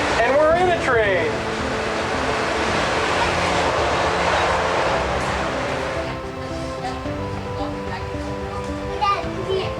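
Steady rumble and rush of a moving train from inside the carriage on a Chattanooga, Tennessee railroad ride, with children talking and calling out over it.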